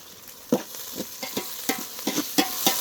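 Ginger garlic paste fries in a pan with a soft sizzle while a spoon scrapes and stirs it in irregular short strokes, close and fairly quiet.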